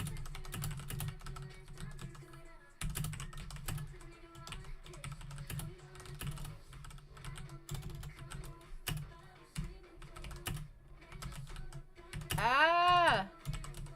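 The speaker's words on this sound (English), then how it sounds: "This is how you type race." Fast, continuous clicking of keys on a computer keyboard during an online typing race, dense rapid keystrokes close up, ending in a loud vocal exclamation.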